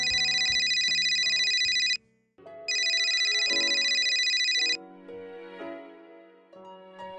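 A telephone rings loudly in an Indonesian TV movie scene, two long electronic ring bursts separated by a short gap, followed by background music.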